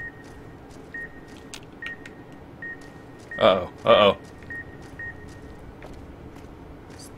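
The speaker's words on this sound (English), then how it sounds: "Stop beeping." Short electronic beeps repeat at a steady pace under a quiet hum, with a voice briefly speaking in the middle, in the video game Fallout: New Vegas Dead Money DLC, at the Sierra Madre.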